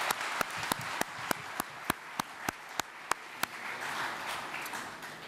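Applause at a Greek sports awards ceremony honouring the year's top athletes: sharp, separate claps land in a loose steady rhythm over a soft room murmur, sounding sparse rather than like a full roaring crowd.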